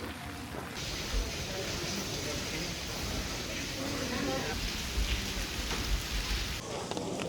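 Steady rain hisses across surfaces of a busy tourist street in Kyoto, Japan, a dense wash of drops with people talking faintly beneath it.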